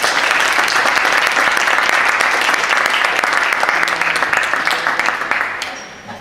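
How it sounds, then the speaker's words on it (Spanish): An audience at a lecture on the Argentine working class claps loudly and continuously, the dense applause holding steady before thinning out at the very end. "Así que les pido un aplauso."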